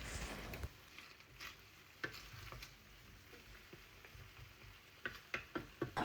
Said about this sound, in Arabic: كنت كل دقيقه ولا 2 دقائق نجي ونخلط مليح البطاطا والفلفله والبصل باش ما يتلصقوش في المقله